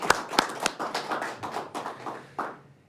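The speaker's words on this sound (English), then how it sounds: "let's give a round of applause to Police Chief Elliot Isaac" Sparse clapping at a Cincinnati mayoral press conference welcomes Police Chief Elliot Isaac, a few sharp close claps followed by scattered softer ones fading out.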